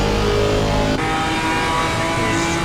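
GT4 race cars, a Mercedes and a BMW, race at Donington with loud mid-pitched engines roaring steadily. A brief dip near one second comes before the engines carry on, droning close and constant throughout.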